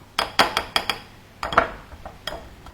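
Butter worked into flour in a bowl clinks and knocks in a quick series of sharp taps, close and distinct, with a brief pause midway.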